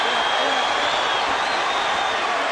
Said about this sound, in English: The crowd is going nuts, as you can imagine.